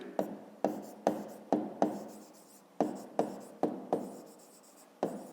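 Pen or pencil writes by hand on paper during a fifth-grade math exercise: a dozen short scratchy strokes, each starting with a tap and trailing off, irregularly spaced and close up, with no voices.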